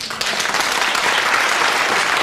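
A 1970s television talk-show studio audience breaks into applause, a dense, even burst of many hands clapping that starts abruptly and carries on loudly throughout.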